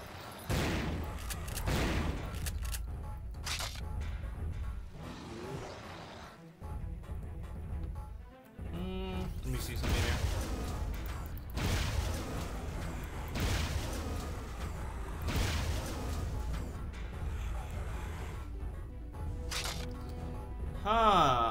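Gunfire in the shooter game Turok 3 comes in irregular bursts of sharp cracks and heavier booms, with short pauses between volleys, loud and close throughout.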